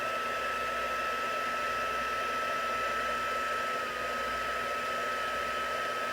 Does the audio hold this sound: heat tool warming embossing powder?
yes